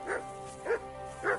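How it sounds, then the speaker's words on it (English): A dog in Kingdom Come: Deliverance II barks three short, evenly spaced woofs about half a second apart, close and moderately loud over faint game ambience. "Good dog, Mats. Show me."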